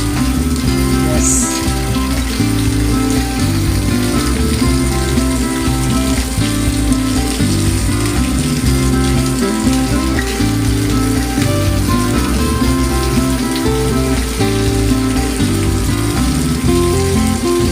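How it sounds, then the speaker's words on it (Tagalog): Very heavy rain pouring down steadily, a loud dense hiss of drops on surfaces, continuous and close with no letup, with a layer of background music or tones running beneath it. "Tambay lang guys, kasi sobrang lakas ng ulan."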